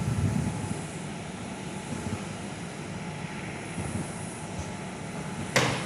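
An Embraer E190 or similar airliner departs Perth Airport, its jet engines producing a steady, loud broadband roar that holds throughout, with a brief sharp burst near the end.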